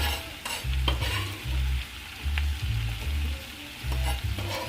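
Chopped thyme being stirred into sizzling garlic butter in a pan, a constant frying hiss with regular soft thumps from the spoon, close and without talk.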